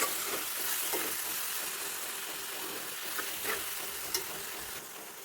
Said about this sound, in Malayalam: നന്നായി വീണ്ടും ഇളക്കി കൊടുക്കുക.